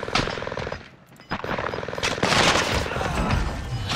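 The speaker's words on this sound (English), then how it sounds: "I just got sniped." Gunfire from sniper combat in the Call of Duty: Warzone video game, a dense, loud burst of shots and impacts that drops away briefly, then resumes as continuous heavy firing.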